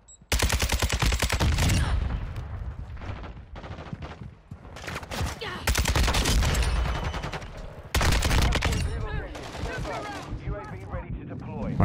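An RPK light machine gun in Modern Warfare 2 fires long, rapid bursts of close, loud shots, broken by short pauses, with voices faintly mixed under the gunfire.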